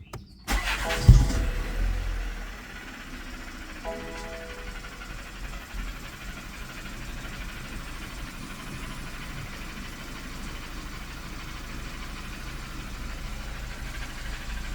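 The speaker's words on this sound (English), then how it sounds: "now I'll start the car again" A BMW G31 ex-police car's engine cranks and fires, then settles into a steady, low idle that rumbles on without any talking.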